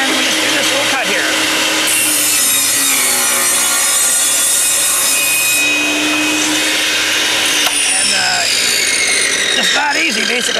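A table saw cutting wood: a loud, continuous whining roar of the blade, with the pitch dipping and shifting as the blade bites into the board, and a voice talking over the noise.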